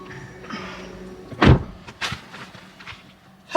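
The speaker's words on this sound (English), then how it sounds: "close your door." A Hyundai car door swings shut at a Hyundai factory with one solid thud near the middle, followed by smaller clunks and rustles inside the cabin over quiet background noise.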